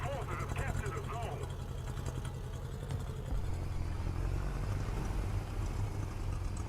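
A small, unmodified car's engine in the War Thunder video game putters steadily at low pitch throughout, with a voice talking over it.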